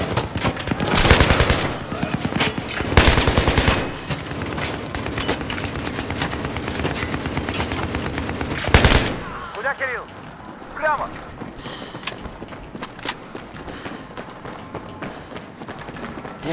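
Battlefield 3 campaign gunfire rattles in heavy automatic bursts, loudest early on and then thinning into scattered shots, with a voice talking over the combat noise.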